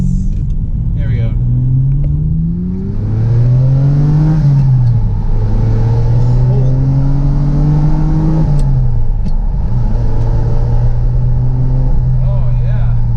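A Ferrari 456M GT Scaglietti with its V12 pulls hard, the close, loud engine note climbing steadily through the revs with brief dips at the gear changes before rising again. The sound is smooth and continuous.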